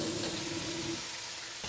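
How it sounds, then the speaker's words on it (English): Organic bok choy stir frying in a wok over very high heat, giving a soft, continuous hiss and sizzle at a low, steady level, with a faint tone in the first half. "We're gonna just do a simple stir fry with some organic bok choy"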